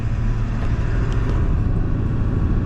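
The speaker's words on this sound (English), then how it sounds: "Oh yeah, you can hear the turbo" A cold Ford 7.3 Powerstroke diesel truck with a new air intake runs close by in a steady, loud, rumbling drone. A faint turbo whine rides over the rumble, and no one talks.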